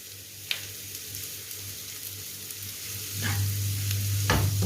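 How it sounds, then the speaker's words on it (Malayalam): Onions sautéing with salt in a pan, a soft continuous sizzle with a low hum, occasional sharp scrapes of a spoon, growing louder toward the end. "ട്രാൻസ്പെറൻ്റ് ആവുന്ന വരെ നമുക്ക് നന്നായി വഴറ്റിയെടുക്കാം."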